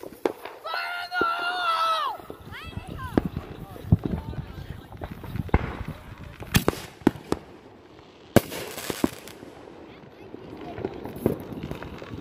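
Fireworks shot off on the 4th of July: a whistling rocket rises, followed by a series of sharp bangs and crackling pops scattered across the clip, with people talking and shouting in between.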